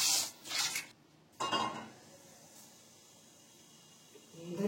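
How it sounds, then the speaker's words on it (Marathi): Metal utensil clatter in a pan while tempering is added for green brinjal bharit in a home kitchen, a couple of brief scraping clinks followed by quiet, then a faint sizzle-like rustle at the end. "तर ह्याच्यामध्येच फोडणी घालते"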